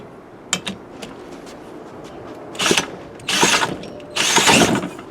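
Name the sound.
1950s Strunk Speed Demon chainsaw being pull-started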